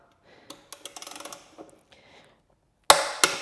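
A torque wrench is used on a 2020 Low Rider S motorcycle to tighten a fastener to 27 foot-pounds, with a series of light ratcheting ticks followed by two sharp, loud clicks near the end.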